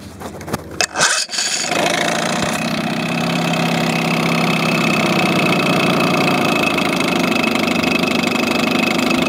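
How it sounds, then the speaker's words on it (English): A two-stroke, two-cylinder boat motor settles into a steady, loud idle after a few rough bursts at startup, running evenly close by with no talking. "Once it's nice and warm, it'll sit here and idle around that speed."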